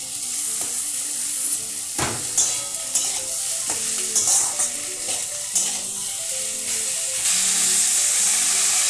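Ridge gourd and potato pieces sizzle and fry in a pan while being stirred, with steady sizzling, repeated utensil clinks and scrapes, and a louder hiss near the end.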